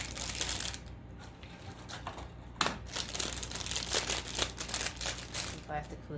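A sheet of plastic crinkles and rustles up close while a Christmas wreath is made, a continuous dry crackling with a few sharper crunches and a quiet voice under it.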